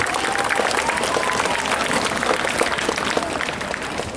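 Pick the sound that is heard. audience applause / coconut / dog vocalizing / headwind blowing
audience applause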